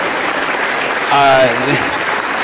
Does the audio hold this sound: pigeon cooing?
no